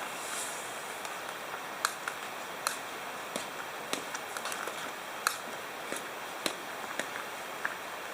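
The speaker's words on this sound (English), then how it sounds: "boiling away pretty good" Beef and barley soup bubbles at a steady boil in a canteen cup over a simmer ring, giving a continuous soft hiss punctuated by regular small pops and crackles.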